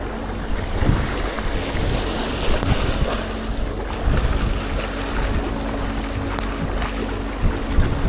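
Strong wind buffets the microphone in a steady roar over open sea off Lanzarote during shore lure fishing, with waves and surf churning underneath and gusts swelling loudly throughout.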